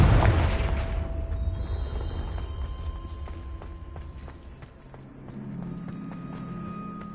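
A Confringo fire spell bursts in the Hogwarts Legacy video game, opening with a loud booming blast that decays into a rumbling tail, followed by scattered clicks and faint tonal game sounds.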